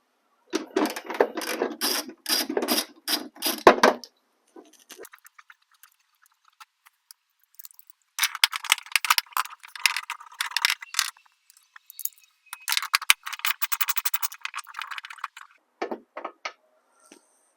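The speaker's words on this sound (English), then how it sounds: "first we're going to remove this nut here, and then there's two others in those holes there we need to get out" A ratchet wrench fitted with an extension working a tail light nut on a Honda Odyssey, giving quick, close clicking bursts that stop and start in several runs with short pauses between.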